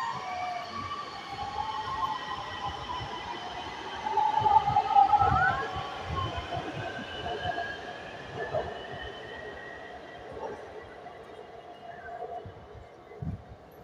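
A Lahore Orange Line electric metro train with six cars pulls away from an elevated station, a rising electric whine and rumble with rail clatter, while someone talks nearby and a brief squeal cuts through.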